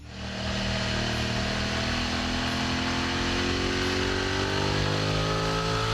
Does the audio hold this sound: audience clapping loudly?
no